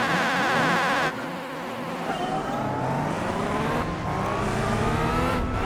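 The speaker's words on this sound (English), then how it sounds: "One of these engines sounds more powerful than the other." Racing car engines in the Gran Turismo 4 driving game, loud and continuous with revving, shifting engine tones that rise and fall over several seconds, with a sharp change near the start.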